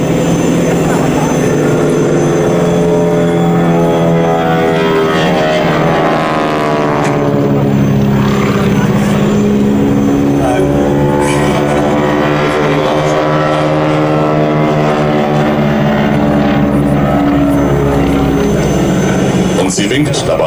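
A loud propeller engine of a Boeing Stearman biplane drones continuously overhead during an airshow wing-walking display, its pitch sweeping up and down as the plane passes, with a voice talking over it.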